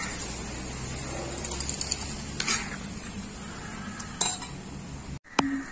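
Onion with gongura leaves being pounded in a stone mortar for a roti pachadi chutney: a few scattered, sharp stone knocks over a quiet kitchen background, with no talking.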